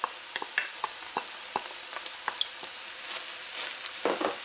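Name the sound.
ground meat and onions sizzling while browning in pan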